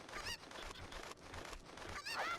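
A cucco chicken in the video game The Legend of Zelda: Ocarina of Time squawks in a few harsh, honking bursts, faint and game-generated, spaced across a couple of seconds with no talk over it.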